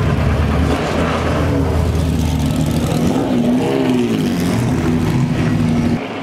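Mercedes 300 SL engine running loud and steady, a continuous rumbling drone with a slight rise and fall in pitch, close by and alone with no talk.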